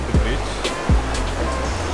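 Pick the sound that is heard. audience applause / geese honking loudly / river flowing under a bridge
river flowing under a bridge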